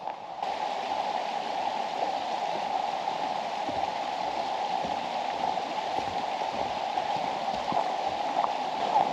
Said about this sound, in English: You can hear the river just about in the background.